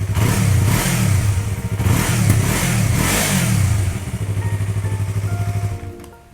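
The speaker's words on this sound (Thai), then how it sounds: "ผมมาฟังเสียงท่อกันเลย ท่อนุ่มๆ พอๆ สไตล์ 2 สูบเลยนะฮะ" Close-up exhaust of a 2018 Yamaha MT-03 two-cylinder motorcycle, revved in several rising and falling blips before settling into a steady idle, then cutting off near the end; loud and alone without talk.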